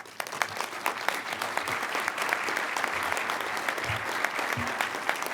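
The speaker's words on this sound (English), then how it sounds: "If you'd please stand up and give them a round of applause." Sustained applause from a crowd at a League of Oregon Cities awards dinner, dense clapping with some sharper near claps, while a voice speaks briefly over it.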